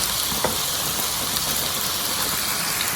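Two bags of old-fashioned coleslaw mix hit a hot pan, making a steady, bright sizzle and hiss with faint crackles, close and even throughout.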